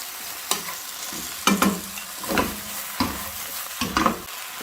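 Potato and eggplant pieces cook in a pan with a spoonful of water, giving a soft steady sizzle broken by several louder scraping stirs and clatters, close by and with no voices.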